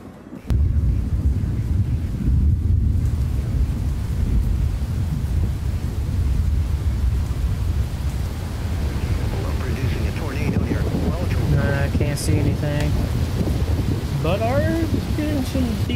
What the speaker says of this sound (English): Decent wind speeds.